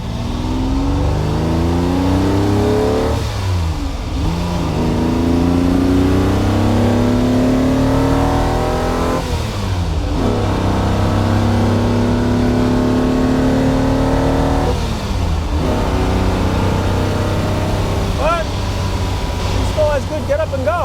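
A red Ferrari 250 GT Lusso engine pulls hard on back roads, its steady interior drone rising through repeated gear-by-gear climbs with brief shift dips, loud and continuous throughout.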